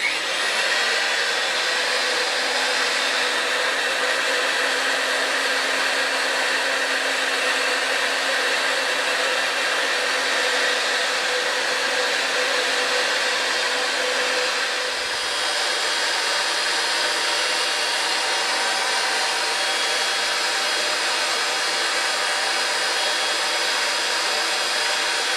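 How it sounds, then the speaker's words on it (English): A Ridgid 141/161 pipe threader runs with a steady, loud motor whine and grinding drone that holds unbroken for the whole stretch, with only a brief dip partway through. "Okay, so I'm going to turn this on now. My machine is plugged in, and here we go."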